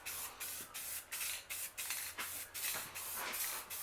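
Spray paint hisses from an aerosol can dusted onto truck traction bars in a series of short, regular bursts, about a dozen quick sprays close to the can with brief pauses between them.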